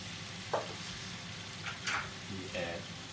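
Pickle juice poured into a hot pan for German currywurst sauce, giving faint sizzling with a few short hissing bursts under low steady cooking noise, with a person speaking nearby.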